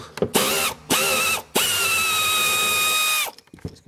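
A power tool whirs in short bursts and then one longer run to loosen a bolt while a car's rear bumper is being removed, with a steady mechanical whine close by.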